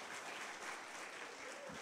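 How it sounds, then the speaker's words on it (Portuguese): A church congregation applauds to welcome visitors during a Sunday evening service, a dense, steady patter of clapping hands filling the short stretch without a break. "Uma salva de palmas."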